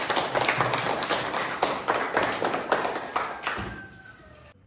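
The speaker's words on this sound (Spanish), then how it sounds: "Un aplauso para Humberto" Audience applause for Humberto at a Spanish-language community event, dense clapping with uneven bursts that swells and then fades toward the end.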